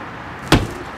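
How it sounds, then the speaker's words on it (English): A slam-latch exterior door on a 2020 Keystone Cougar 364BHL travel trailer shuts with a single sharp, close thump followed by a brief rattle, then quiet. "and slam latch doors."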